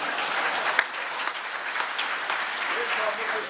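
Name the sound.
meek applause from audience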